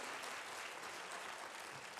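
Applause from a large audience at a motivational business convention, a broad, even hiss of clapping that stays steady and fairly distant, with no voices over it.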